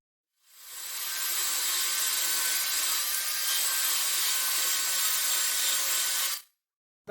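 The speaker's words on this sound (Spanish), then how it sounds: "Con la lija sobre disco solamente redondearé las orillas superiores" A disc sander grinds steadily against the top edges of a wooden drawer handle, rounding them in one continuous, loud, close pass lasting several seconds before stopping abruptly.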